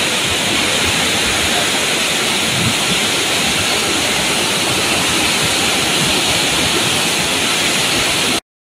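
Heavy rain pours down outdoors in a steady, dense wash of hiss that stays loud and unbroken for about eight seconds before cutting off abruptly, with no voices.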